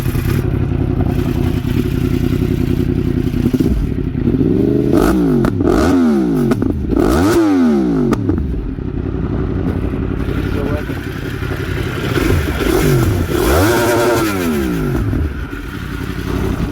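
A near-stock Yamaha R1M sport motorcycle fitted with a slip-on exhaust, idling loudly close by and then rising and falling through several sharp revs, with a clattering mechanical undertone.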